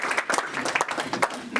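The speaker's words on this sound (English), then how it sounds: "Let's have a nice round of applause." A small gathering at a Rotary meeting claps for a couple's 68th wedding anniversary, a brief, sparse patter of separate hand claps, fairly soft and close.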